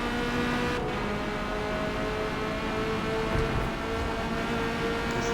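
Corvette C8.R race car in Forza Motorsport held at full throttle, its engine a steady, loud, close harmonic drone running without a break through the whole stretch.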